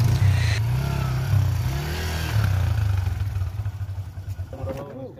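A motorcycle engine rumbles and revs as the bike is ridden onto a boat at a river ghat, a loud, close, steady throb that pulses toward the end, with voices briefly audible.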